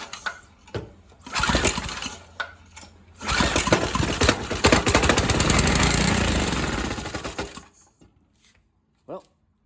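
A free Briggs & Stratton 3.5hp small engine sputters through a few failed pulls, then catches and runs loud and rough for several seconds before dying out, ending on a brief knock.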